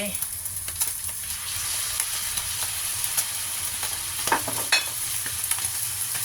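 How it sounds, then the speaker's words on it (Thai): Duck, mixed vegetables, sugar and soy sauce stir-frying in a pan, giving a steady close sizzle with scattered scrapes and clacks of a utensil stirring throughout. "ใส่ผักทุกอย่างลงไปนะคะ เราจะมาผัดเลยนะคะ"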